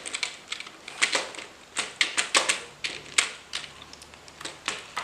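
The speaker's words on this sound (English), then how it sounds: "Actually, this sounds like a mechanical keyboard, which is a bit advanced than this." Someone types on a keyboard with a mechanical sound, giving a rapid, irregular run of sharp clicky keystrokes, close and fairly loud with small pauses between bursts, no voices.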